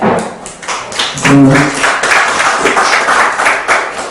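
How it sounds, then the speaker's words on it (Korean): Audience applause at a policy symposium on transport support for people with kidney disabilities, a dense, steady wash of clapping that fills the room for about four seconds, with a brief vocal swell near the start. "큰 박수 부탁드립니다"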